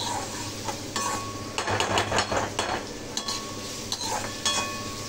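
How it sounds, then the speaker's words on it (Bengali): Onion, garlic and green chilli with panch phoron frying in oil in a kadai, a steady close sizzle broken by several bursts of spatula stirring and scraping against the pan, with a light clink of utensils. "কড়াইতে তেল দিয়ে পাঁচফোড়ন দিয়ে পেঁয়াজ রসুন কাঁচা লঙ্কা দিয়ে দিয়েছি"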